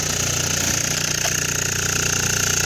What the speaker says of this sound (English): here's the compressor.